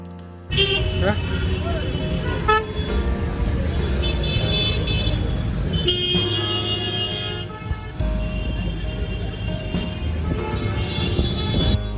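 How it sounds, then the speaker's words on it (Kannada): Car horns toot repeatedly amid a traffic jam in Kashi, with a continuous rumble of road vehicles and busy street noise, while people talk throughout. "ಅಂದರೆ ಟ್ರಾಫಿಕ್ ಜಾಮ್ ಇದೆ."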